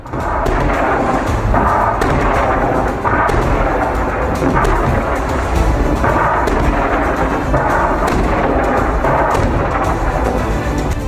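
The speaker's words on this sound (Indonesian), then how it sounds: "Serangan roket dan peluru artileri Hizbullah menyasar konsentrasi pasukan Israel." Hezbollah rocket and artillery shell fire aimed at Israeli troop concentrations in southern Lebanon: a loud, unbroken barrage of heavy rumbling booms and blasts that overlap with no pause and no voices.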